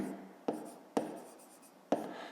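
A pen writes out a fifth-grade math solution by hand on paper, close and quiet, with soft continuous scratching broken by three sharp taps as the pen lifts and lands.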